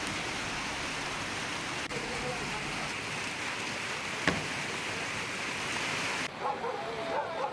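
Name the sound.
rushing floodwater hitting homes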